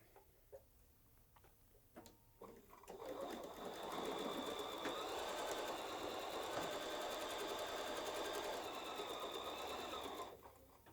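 A sewing machine stitches a seam on a charm-pack fabric tote. A few soft ticks come first, then the motor settles into a steady, close, whirring hum for about seven seconds before stopping.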